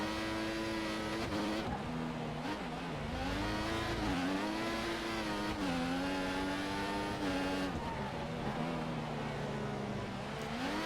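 A Formula One race car in the F1 2014 video game screams at high revs, its engine pitch rising and falling through gear changes and corners, loud and continuous.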